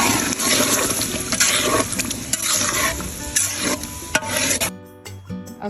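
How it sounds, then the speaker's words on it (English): A spoon scrapes and stirs a pot of simmering Ghanaian tomato stew in close, continuous strokes, with a faint sizzle underneath, before the stirring stops near the end. "so at this point we'll be stirring for some time now"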